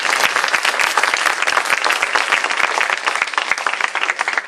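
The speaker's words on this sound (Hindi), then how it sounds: "एक बार जी खोल करके तालियां बजा दीजिए" Loud, dense audience applause at a Hindi poetry recital during a kavi sammelan festival, a sustained crowd of clapping hands heard close and steady throughout.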